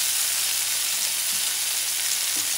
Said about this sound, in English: Saute this baby.